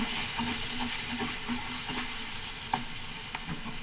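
Beef for kare-kare browns in a pan with a steady sizzle, with repeated scraping stirs and a few sharper clinks of the spoon against the metal.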